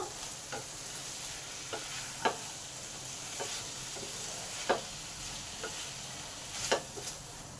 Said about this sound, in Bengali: আবার এটাকে ভালো করে নেড়ে নেব